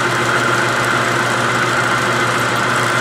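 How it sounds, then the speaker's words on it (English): A lathe spins a metal part for a trailer tongue extender at about 300 RPM, giving a steady, loud mechanical hum and drone with a faint rhythmic rattle that stays constant throughout, with no talking. "Turning at about 300 and some RPM."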